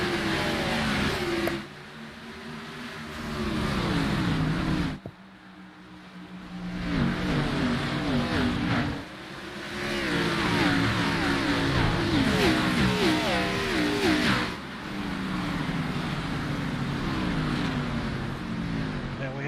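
Race cars roar off the green flag start at Richmond Speedway, a steady engine drone running under continuous commentary, with brief dips in loudness.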